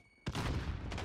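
Light machine gun firing in Modern Warfare Search and Destroy, a sudden sharp onset of dense rapid automatic fire that holds loud and continuous for under a second.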